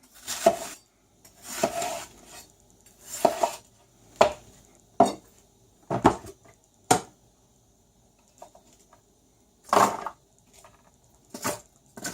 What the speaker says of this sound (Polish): Kapustę drobno szatkujemy,